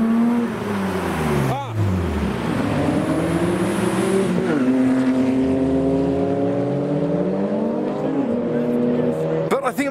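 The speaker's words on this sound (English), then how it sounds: "I can hear the E30 doing some bits." A BMW E30 revs hard at a Japanese car meet, its engine pitch sweeping up and down repeatedly in loud, close bursts with a tire squeal, while someone talks over it.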